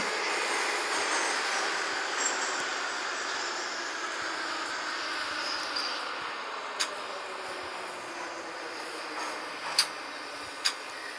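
An 81-717 metro train rolling into a station and slowing to a stop, a steady broad rumbling drone heard from inside the car, with a few short sharp clicks near the end.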